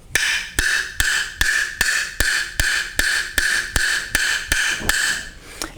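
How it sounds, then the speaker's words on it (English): A wood block struck about a dozen times in a steady, even rhythm, each hit a sharp, bright, high-pitched tight knock, close and clear with no talking. "So when we hit our wood block,"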